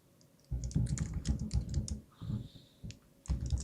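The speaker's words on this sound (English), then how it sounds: "you can start as normal ordinary conversation just by typing a simple prompt" Close, quiet keystrokes on a computer keyboard as a prompt is entered into an AI chat, a rapid irregular clatter in short bursts with a brief pause partway through, then a final flurry.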